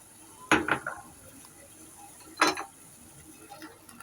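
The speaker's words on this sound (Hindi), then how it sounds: "फिर इसको दोबारा से हम चम्मच से हिलाएंगे ताकि सूखा दूध हमने जो डाला है इसमें अच्छे से मिक्सअप हो जाए" A metal spoon clinks and scrapes against a pot while stirring dry milk into semolina halwa, two short bursts of clatter separated by a pause, with faint scraping after, fairly close and moderately loud.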